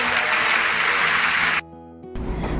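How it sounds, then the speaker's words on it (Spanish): Congregation applause at a Sunday church service, loud dense clapping for about a second and a half that cuts off abruptly, followed by a brief hush and a low rumble. "fuertes aplausos"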